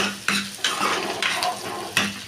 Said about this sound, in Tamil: நல்லா வணக்கி விட்டுக்கலாம் வெங்காயம் நல்லா வணங்கி வரட்டும் அந்த எண்ணெயில்